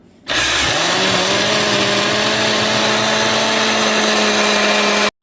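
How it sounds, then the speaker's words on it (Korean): A blender grinding glutinous rice kicks on with a loud, steady high-pitched whir for about five seconds, then cuts off abruptly. "일단 이렇게 이제 찹쌀을 믹서기에다가 딱 가르거든요"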